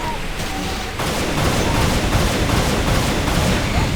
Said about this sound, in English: You'll see me fire my pistol occasionally a few extra times after combat's over